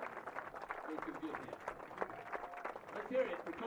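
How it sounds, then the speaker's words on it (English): A crowd at a men's lacrosse game applauds a retiring coach, scattered outdoor clapping heard faintly and at a distance, mixed with voices. "Please join me in a round of applause."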